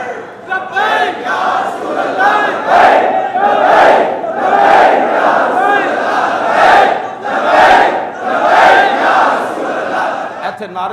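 Chanted slogans from a crowd at a religious gathering led by Allama Khadim, many voices shouting in rhythmic bursts roughly once a second, loud and close with brief dips between calls.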